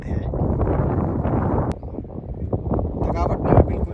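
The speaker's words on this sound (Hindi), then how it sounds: "हवा चल रही है इतनी ज़्यादा" Strong wind blows across a hill viewpoint in Dalhousie, a steady, loud roar and buffeting against the microphone that fills the whole clip while someone talks over it.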